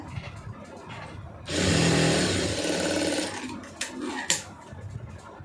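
A sewing machine puts a couple of short stitches into a garment strip, running in one loud close burst of about two seconds, followed by a few faint clicks and handling noises.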